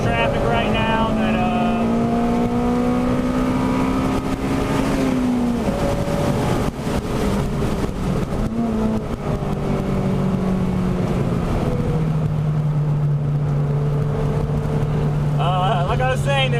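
A Honda Civic Si engine drones from inside the car on a race track, with the pitch rising and falling through gear changes at full, continuous loudness.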